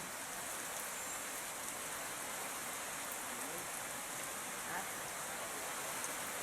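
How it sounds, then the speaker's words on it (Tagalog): Steady, dense rain pours down in an even hiss, close and continuous, with no letup. "maalakas ang ulan"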